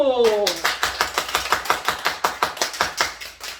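A small church congregation at a Sunday worship service claps in a steady, even rhythm of distinct hand claps, close and fairly loud, after a brief voice at the start.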